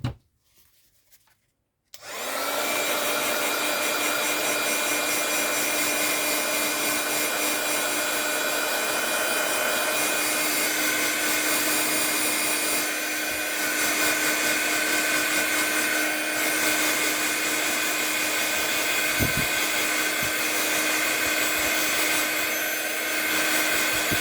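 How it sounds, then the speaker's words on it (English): A heat gun switches on after a brief quiet start and blows hot air continuously to dry a model, producing a loud, steady whine and airy rush that lasts the whole time, with no talking. "my heat gun in and just dry that off a bit quickly."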